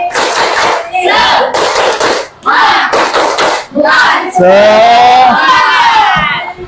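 Standing participants at an Islamic religious education teacher training gathering repeat a loud rhythmic clapping chant, clustered claps in sets separated by brief gaps, ending in a sustained shouted group cheer.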